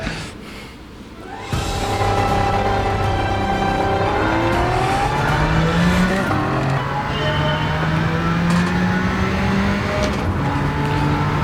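The V6 engine of a 1992 Jaguar XJ220 with a long-geared 5-speed gearbox in Gran Turismo 7 at Trial Mountain revs up loudly through the gears, rising pitch sweeps repeating as it accelerates, close and continuous after a quieter start.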